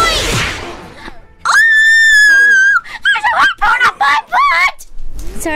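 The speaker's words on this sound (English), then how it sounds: "Sorry, I didn't mean to scream like that." A person playing an online video game lets out a loud, sustained high scream, followed by a burst of shorter excited yells and shrieks, all close and intense.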